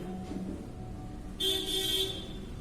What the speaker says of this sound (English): one, external traffic.